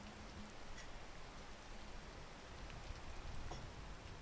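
Steady rain pours through the jungle in the video game PEAK, a continuous hissing wash with scattered droplet patter throughout, no voices.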